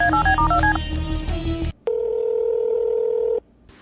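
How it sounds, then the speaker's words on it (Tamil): A telephone being dialed: a rapid run of loud touch-tone beeps, a short pause, then one long steady tone that cuts off abruptly. "இப்போவே அம்மாவுக்கு நான் ஃபோன் பண்ணுறேன்"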